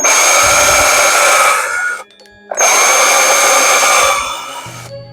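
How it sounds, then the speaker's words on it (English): A power drill bores holes into a plastic witch hand, two loud sustained whining bursts close by, separated by a short pause. "Oh, I drilled holes into a witch hand."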